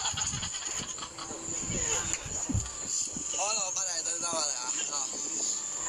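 A person mimics a goat that has been given vinegar, letting out wavering, bleating cries in a quick series after a few scattered knocks and voice sounds, close to the microphone against a faint background hiss.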